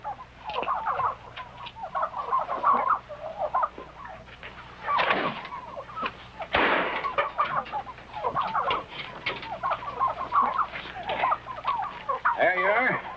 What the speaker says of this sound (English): There you are. 20 turkeys.